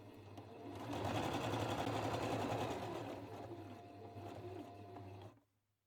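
A sewing machine runs a simple straight stitch joining quilting fabric strips, a steady close mechanical whirr with a low motor hum that holds for about five seconds, then stops abruptly.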